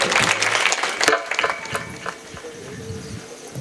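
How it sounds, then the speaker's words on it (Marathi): An audience at a kirtan in Hingoli claps in a brief, fairly close burst that quickly thins into a few scattered claps and then fades into quieter room noise. "टाळी होऊ दे एकदा जरी"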